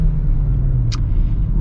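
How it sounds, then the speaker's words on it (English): A 2022 Kia Forte with a CVT accelerates, heard from inside the cabin as a steady low engine drone and road rumble, with a brief high click partway through and no talking. "We're gonna get an acceleration and see how the CVT responds."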